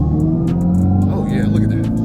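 A Dodge Charger Daytona EV at full throttle gives a steady, loud, droning hum with layered tones that holds for about two seconds, with a voice faintly present.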